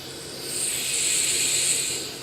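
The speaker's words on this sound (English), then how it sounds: "that's the sound of precision ball bearings" Free-spinning, non-returning yo-yo with precision ball bearings whirring in space aboard a spacecraft, a soft steady airy hiss that swells and fades over a couple of seconds, close and alone.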